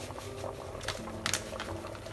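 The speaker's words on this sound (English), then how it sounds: "we're just gonna let it boil until the potatoes are soft" A pot of potato and broccoli soup mixture for a vegan creamy soup boils steadily, giving a close, continuous bubbling and gurgling with a few sharper pops, and no voices.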